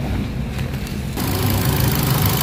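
Ford EcoSport engine idling with the bay open, a steady low rumble that grows slightly fuller partway through, close and continuous with no talk.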